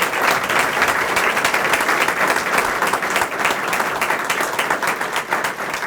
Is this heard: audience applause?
yes